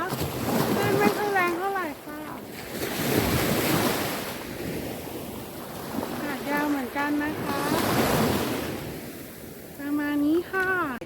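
Surf rolls and washes onto the beach at Laem Talumphuk in Nakhon Si Thammarat in steady, loud swells with wind buffeting the microphone, while someone talks over the sea throughout.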